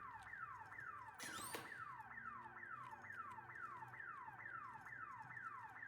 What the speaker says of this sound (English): So is that alarm actually doing anything?